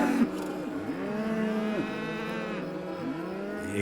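Cattle on a farm low in distress, several long wavering moos overlapping one after another, loud and close with no talking.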